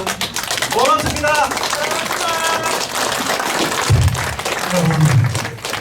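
Sustained applause from a lecture audience on the third floor of Damsu Hall in Daegu, closing a special history lecture. Dense, steady clapping fills the room, with voices mixed in.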